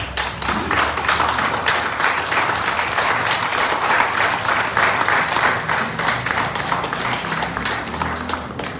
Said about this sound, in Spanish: Denle un aplauso al Señor por su palabra.